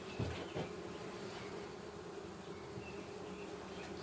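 Honeybees from a newly installed package hum steadily around an open hive, a continuous close drone with a couple of brief louder buzzes as individual bees pass nearby.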